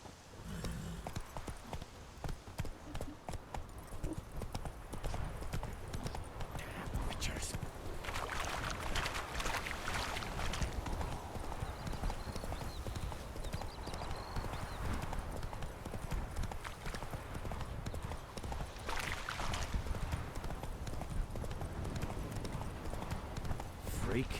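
Roach the horse's hooves clip-clop steadily through the whole stretch in The Witcher 3, a continuous rhythmic trot under game ambience with a voice speaking now and then.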